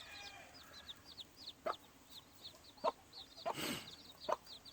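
Young gamefowl chicks about two days old peep in a steady stream of high, thin chirps, with a few soft, sharper taps and bumps scattered through as they peck near a nest.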